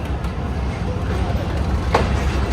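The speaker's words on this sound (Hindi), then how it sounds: "काफ़ी स्लो अप्रोच बना रही है ट्रेन भाई।" A train rolls slowly toward a station platform as a low, steady rumble with broadband clatter, moderately loud and continuous, with one brief brighter screech near the end.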